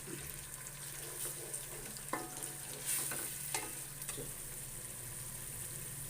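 Browned onions and spice mix for curry pakora are stirred in a hot pan, with a steady sizzle of frying underneath and a few sharp scrapes and knocks of the spoon against the pan.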